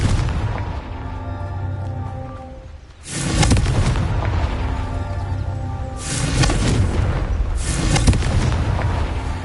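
Confringo blasting-spell explosions in the Hogwarts Legacy video game: a loud boom after a short pause, then two more heavy blasts, each with a rumbling tail over steady background game sound.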